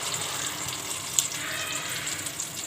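Ghee heating in a pan for masala chicken, giving a steady, soft sizzle and hiss throughout, with a couple of faint clinks near the start and end.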